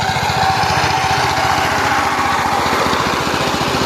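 A power tiller ploughs a field with a loud, steady, close engine drone whose rapid chugging pulse runs unbroken throughout.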